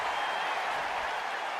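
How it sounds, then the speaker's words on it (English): A steady wash of crowd noise from a WWE 2K25 wrestling match, a continuous roar of cheering and clapping at an even level with no distinct breaks. "Crowd is feeling it."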